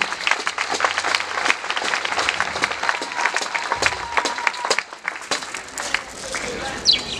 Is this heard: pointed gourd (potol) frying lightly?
no